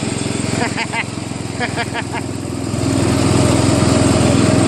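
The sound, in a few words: Craftsman LTV 10 VariDrive lawn tractor engine running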